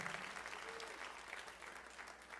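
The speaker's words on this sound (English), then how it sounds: "How about a round of applause for that?" Audience applause at a citizen project pitch competition, a steady wash of clapping held at an even, fairly quiet level throughout.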